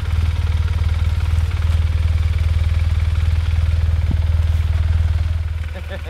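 A motorcycle winch drones steadily as it hauls a heavy adventure bike upright, a loud, continuous low engine-like hum with light clatter running throughout and easing slightly at the end.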